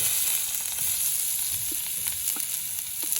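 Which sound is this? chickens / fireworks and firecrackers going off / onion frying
onion frying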